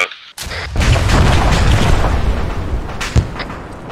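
A MAAWS recoilless rifle rocket detonates in ArmA 3 with a sudden loud boom that swells into a sustained, roaring fireball rumble lasting several seconds, with a smaller secondary crack near the end.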